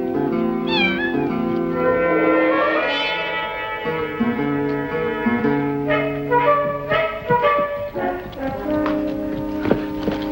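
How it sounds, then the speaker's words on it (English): A black cat meows at a busy roadside inn, its rising cry heard near and clear over a dense bed of sustained music and clopping horse hooves. "A black cat has just crossed my path."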